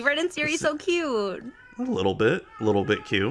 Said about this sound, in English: you can hear my cat in the background there just going a little bit crazy